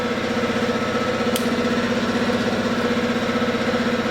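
A 2012 Kawasaki ZX6R motorcycle engine, freshly rebuilt after a wreck, idles steadily and close up with a rapid, even low-pitched pulsing, with one brief sharp click partway through and no talk.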